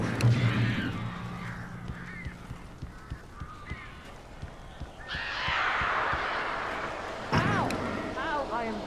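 Crows caw harshly in the Alan Wake video game, with several hoarse calls clustered near the end over low thuds and bursts of background commotion while a voice talks.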